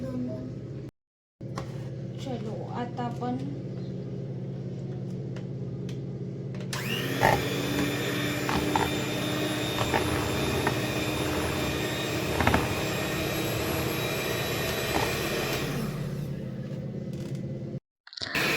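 An electric hand beater, the kind used for whipping cake batter, whirs steadily for about ten seconds while homemade ice cream is mixed with wild fruit. It follows a stretch of softer background noise and stops abruptly.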